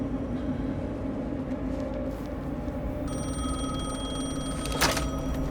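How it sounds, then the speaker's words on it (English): A telephone rings in Alan Wake 2, a bright electronic trill that starts partway through and repeats over a low ambient drone, with a short sharp burst near the end. "The phone again."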